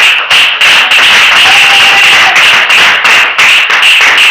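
A congregation claps together at a church prophetic seminar, a loud, dense wash of many hands that keeps going without a break, with short dips in level every half second or so.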